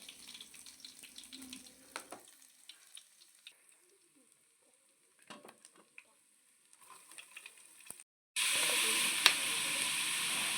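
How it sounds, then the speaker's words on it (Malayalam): Garlic, ginger and curry leaves go into hot oil for sautéing. Quiet scattered clinks and rustles are followed by a sudden loud, steady sizzle that continues to the end. "അരിഞ്ഞ് മാറ്റി വെച്ചിരിക്കുന്ന വെളുത്തുള്ളി ഇഞ്ചി പിന്നെ കറിവേപ്പില എല്ലാം കൂടെ ചേർത്ത് നമ്മൾ ഒന്ന് വഴറ്റിയെടുക്കണം"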